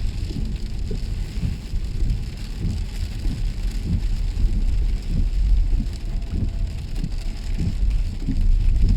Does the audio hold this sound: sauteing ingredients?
no